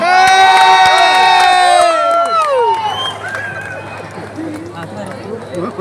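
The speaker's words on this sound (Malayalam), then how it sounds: "നമുക്ക് എല്ലാവർക്കും നല്ല കയ്യടിയോട് കൂടി ഇവരെ സ്റ്റേജിലേക്ക് ക്ഷണിക്കാം" A crowd at a promotional event for the Malayalam film Rachel cheers loudly with shouts and whoops, which swell at first and then fade into a lower, scattered murmur.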